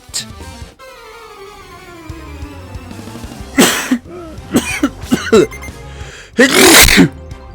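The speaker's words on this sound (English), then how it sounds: "Oh, I hate it when you have a cough and then a sneeze." A person coughs and sneezes loudly and close up, several harsh bursts in a row with throat-clearing sounds, over a game's background music.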